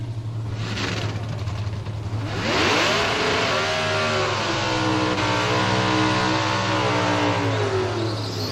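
A Factory Stock drag racing car launches and accelerates down the strip at the NHRA U.S. Nationals. A loud, continuous engine roar climbs steadily in pitch through the gears, heard alone for several seconds.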